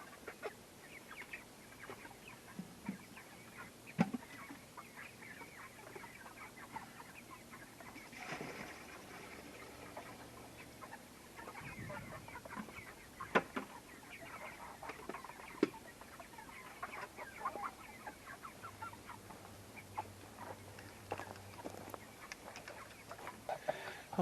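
Chickens on a homestead cluck softly and intermittently against a low steady background, with occasional sharper bird calls rising briefly above the murmur.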